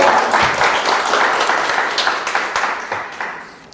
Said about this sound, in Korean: 박수 받을 일을 한 적은 없는 것 같은데